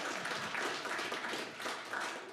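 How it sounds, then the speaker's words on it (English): An audience at a live-streamed conference session claps in a light, scattered patter that keeps up steadily for a couple of seconds, somewhat distant and fairly quiet. "I get claps even before I start."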